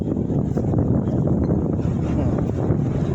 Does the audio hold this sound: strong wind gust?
yes